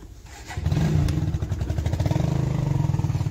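A motorcycle engine starts close by, a quick crank that catches into a steady, fast-pulsing idle that runs loud and even to the end.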